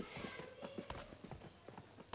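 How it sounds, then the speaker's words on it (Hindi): Footsteps of a player moving nearby in the mobile battle royale game Battlegrounds Mobile India, a quick steady series of soft thuds at low volume over faint background ambience. "ओ भाई पैरों की आवाज़ आ रही है भाई"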